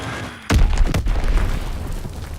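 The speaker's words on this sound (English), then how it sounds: "Dropping Azon bomb" A bomb detonates in a WW2 multiplayer shooter: one sudden loud, deep boom that rumbles on and slowly fades over the rest of the moment, with no talk.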